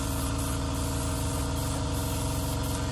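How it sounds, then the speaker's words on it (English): A California Air Tools quiet air compressor running steadily nearby, a continuous even motor drone with a rough mechanical buzz and no talking. "The air compressor that you hear come on is a California air tool."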